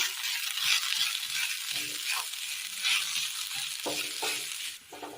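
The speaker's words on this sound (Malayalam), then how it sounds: "ഇതിലേക്ക് വാട്ടി വെച്ചിരിക്കുന്ന വെജിറ്റബിൾസ് ഇട്ട് കൊടുക്കാം. ഉടച്ചെടുത്ത ഉരുളക്കിഴങ്ങ് മിക്സ് ചെയ്തെടുക്കാം." Steady sizzling and frying in a pan as mashed potato and vegetables are stirred into cooked masala, with soft scraping strokes of the spoon throughout.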